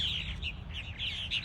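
Purple martins at busy nest houses give repeated chirping, warbling calls over a steady low background rumble, moderately near.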